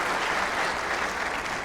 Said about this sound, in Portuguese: Acolham com vossos mais calorosos aplausos este eminente palestrante